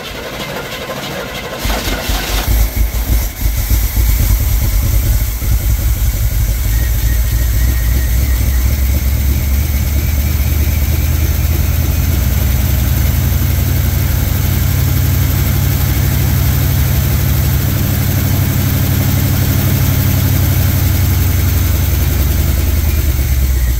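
A Chevrolet squarebody pickup, parked for 19 years, starts after a brief rattle and settles into a steady, loud idle that runs on without a break, its low rumble close and even throughout.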